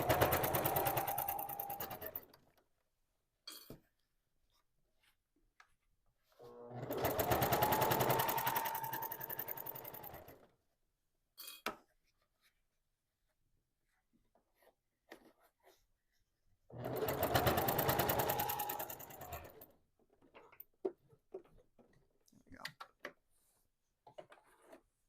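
Quilt-as-you-go blocks are sewn with a quarter-inch seam on a sewing machine, heard in three separate bursts of steady stitching with quiet pauses and small handling clicks between them.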